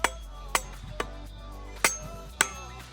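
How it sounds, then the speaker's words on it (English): Sharp metallic strikes as a cheap knife blade hits a brass rod resting on a wooden stump, five distinct clinks at uneven intervals, close and alone. "let's test cutting a brass rod against this blade using a stump as our stop"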